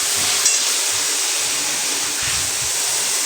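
Soybean chunks frying in hot oil in a pan, a steady loud sizzling hiss holding evenly throughout, close up and with no talking.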